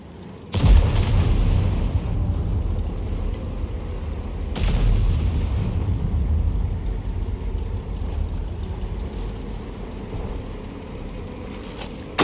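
Artillery shell from a T92 HMC self-propelled gun striking a Panzer 7 in World of Tanks, a sharp booming impact near the start followed by a second heavy blast and a long rumbling tail under engine drone.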